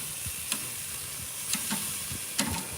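Food sears on a Primo grill with a soft, steady sizzle and hiss, broken by a few sharp clicks and scrapes as pieces are moved or turned.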